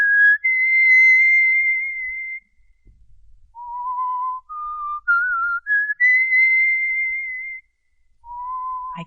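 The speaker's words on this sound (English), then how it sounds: "I can still hear him whistling that tune." In a radio drama, a man whistles a tune alone, clear and close: long sustained notes and stepwise melodic phrases, broken by a couple of brief pauses.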